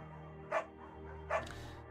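Bucket, a beagle in the video game Firewatch, gives two short, separate barks about a second apart. They are moderately faint against a low, steady background hum.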